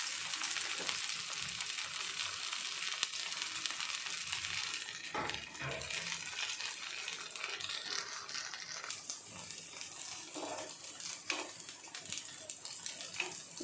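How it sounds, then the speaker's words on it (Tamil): Poha (aval) cutlets fry in hot oil over a medium flame, giving a continuous close sizzle and crackle with occasional soft clicks of a utensil, and no voice heard. "எண்ணெய் சூடு ஏறிடுச்சு. இப்போ ஒரு பீஸாக அதில் சேர்த்துடுங்க."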